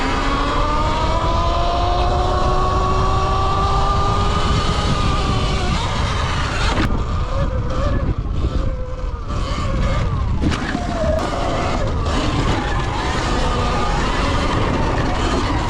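A Sur Ron X electric dirt bike being ridden, a continuous close whine that rises and falls as the rider accelerates, layered with wind rush and rough rumbling from the ground throughout.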